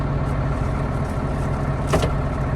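A Solis 105 tractor engine drones heavily inside the cab, a constant loud low rumble with steady vibration and a brief rattle near the end.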